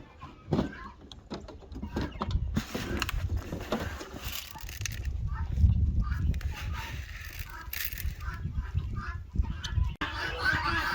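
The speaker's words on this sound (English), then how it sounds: "A couple roosters, or a rooster. Yeah, a rooster back there." Chickens cluck and a rooster calls now and then around a cold, snowy farmyard, a busy mix of fowl sounds at moderate distance with steady low rumble underneath.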